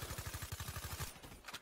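Rapid automatic gunfire from the video game Call of Duty: Black Ops 3 rattles in an even, fast burst of about a dozen shots, followed by a couple of scattered shots. The whole passage is fairly quiet.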